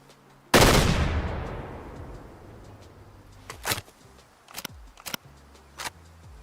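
Gunfire in the hunting game Way of the Hunter: one loud close shot with a long decaying rumble, followed by several sharper, quieter reports spaced about half a second apart.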